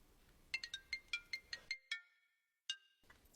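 A phone ringtone plays a quick series of bright electronic beeps in a rapid rhythm, then a short pause and one more chirp, clear and close in a quiet room.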